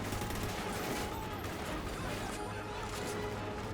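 Gunfire in the first-person shooter Call of Duty Ghosts comes as rapid bursts of shots with cracking impacts over a dense battle din, loud and sustained.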